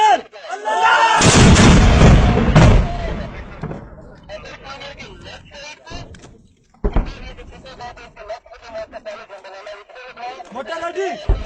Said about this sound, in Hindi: ओके मोटर रेडी उधर वाला फायर